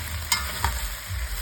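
Onions and vegetables being stirred in a pot for homemade chicken stock, two quick scraping strokes over a low, steady sizzle.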